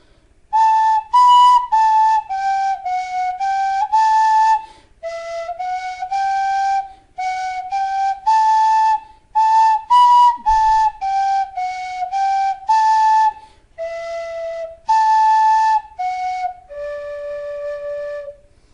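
A Clarke tin whistle plays a lively melody alone, bright clear notes moving in quick phrases with brief gaps between them.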